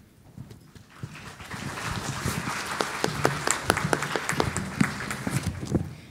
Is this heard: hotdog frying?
no